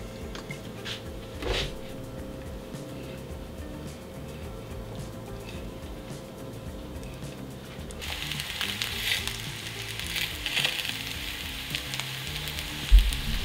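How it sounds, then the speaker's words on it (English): Vegan sausage links sauté in a hot skillet. A low, steady sizzle gets louder partway through, with a few clicks and a clank near the end. "I will give them a quick saute to finish off the cooking"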